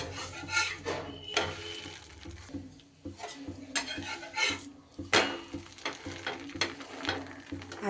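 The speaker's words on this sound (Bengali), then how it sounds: "এবার একটা একটা করে পরোটা আগে একটু সেঁকে নেব।" Radish (mooli) paratha set one at a time onto a hot dry tawa over a gas flame: close metallic clinks and clatter of a spatula against the pan, with uneven scraping and a faint background sizzle.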